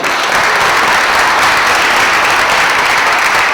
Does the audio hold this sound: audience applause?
yes